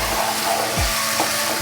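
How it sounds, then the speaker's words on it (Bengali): Mung dal sautéing in a pan with a splash of added water gives a steady close sizzle and bubbling hiss, continuous and moderately loud, with faint stirring scrapes. "আমি একটু জল দিয়ে দেবো, জল দিয়ে একটু জল দিয়ে আমি কষাবো"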